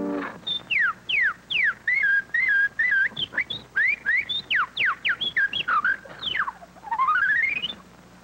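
A person whistles a rapid, chirpy series of sliding notes, imitating a bird's twitter, fairly close and clear with brief pauses between phrases.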